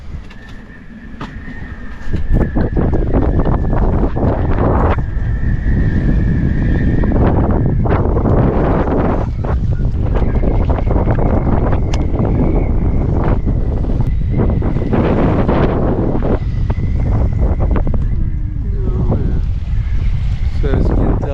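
Strong wind roars and buffets steadily at close range aboard an anchored sailboat, with whistling gusts rising and falling for the whole stretch.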